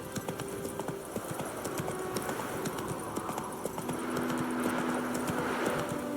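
Horse hooves clip-clop at a steady gallop in The Witcher 3, a continuous rhythmic pounding at moderate volume with faint ambient game sound and no clear speech.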